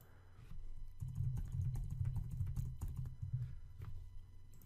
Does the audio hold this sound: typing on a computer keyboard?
yes